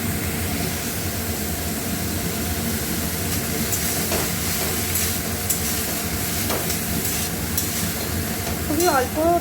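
Chopped banana stem being stirred and fried in ghee in a kadai, a steady broadband sizzle with scraping stir strokes running throughout, fairly loud and close.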